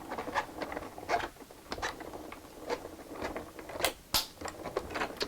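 A paper trimmer slices through cardstock, making a few short crisp cuts and scraping slides that are close and moderately loud, with one sharp snap near the end and no talking.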